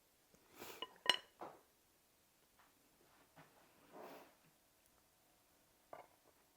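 A spatula scrapes and clinks against a dish while spreading cream cheese mixture onto crescent roll dough, giving a few soft, scattered taps and smears with quiet gaps between them, close and faint.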